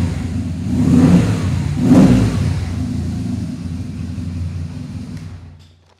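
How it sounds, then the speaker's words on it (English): A BMW Boxer motorcycle engine rumbles deep and throaty nearby, swelling through two strong revs before settling into a steady idle that fades away at the end. "a very definite and distinctive motorcycle called a BMW Boxer"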